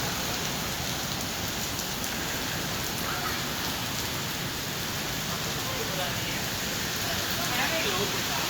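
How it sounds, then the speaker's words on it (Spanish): Heavy rain pours steadily on Madison Avenue at 42nd Street in New York, a dense continuous hiss of drops on pavement and surfaces, loud and unbroken throughout. "Parece ser que va a seguir lloviendo."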